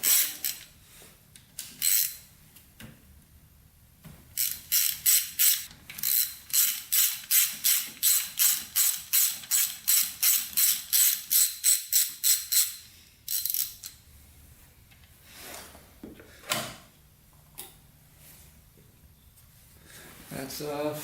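A hand ratchet loosens valve cover bolts on a big-bore Yamaha YFZ450 ATV engine, clicking in close, rapid rhythmic runs of pawl ticks with pauses between bolts.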